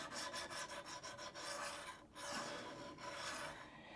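A draw knife blade is sharpened with fabric-backed sandpaper, giving repeated close back-and-forth rasping strokes in a steady rhythm with a brief pause midway, no voices.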